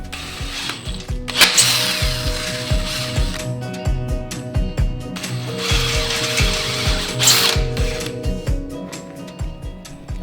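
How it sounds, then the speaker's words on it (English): A drill bores out damaged threads on a 1992 Suzuki RM125 motorcycle, close up with a rhythmic mechanical whir and rattling ratchet-like clicks, pausing and restarting in bursts without any talking. "The first step in the repair process is to drill out the damaged threads."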